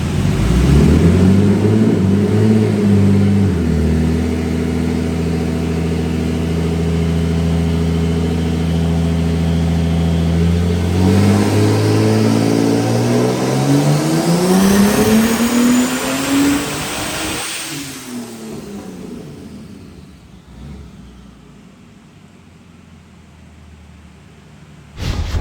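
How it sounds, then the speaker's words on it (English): Turbocharged Barra engine in a methanol-fuelled burnout car roars loudly on a dyno, holding steady then climbing hard in pitch through a long pull before dropping away to a fading wind-down. "Here's the clip for the final dyno run."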